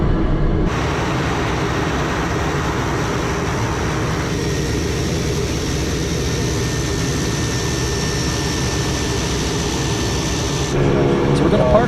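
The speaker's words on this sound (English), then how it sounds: "we're going to park the airplane and shut everything down" A steady airplane engine whine and rumble drones on continuously from inside a small aircraft taxiing after landing, a faint high tone over it.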